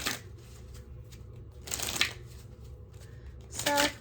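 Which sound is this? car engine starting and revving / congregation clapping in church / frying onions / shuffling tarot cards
shuffling tarot cards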